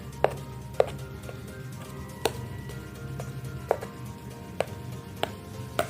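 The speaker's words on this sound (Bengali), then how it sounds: "এবার কাঁটা চামচ দিয়ে একটু ছিদ্র করে দিচ্ছি" A fork pricks pizza dough in a series of sharp, evenly spaced taps, about seven or eight close clicks against a surface over a steady low background hum.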